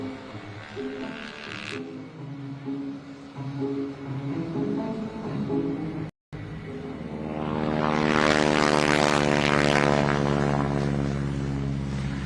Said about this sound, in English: on the takeoff roll, let's listen to the sound of radial rumble.